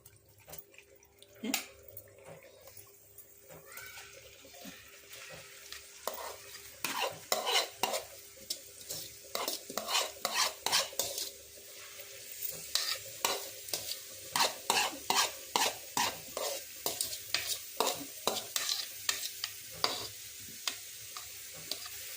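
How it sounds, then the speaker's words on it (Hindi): Grated bottle gourd (lauki) frying in hot ghee in a kadhai while being stirred, with a continuous close sizzle broken by quick repeated scraping strokes of a ladle, gathering pace and loudness, no talking. "जब तक ये लौकी को हमें भूनना है घी के अंदर।"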